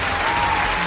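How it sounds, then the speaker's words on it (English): Broad steady applause from an audience fills the whole moment, continuous and fairly loud with no pauses or breaks. "We welcome and appreciate your applause."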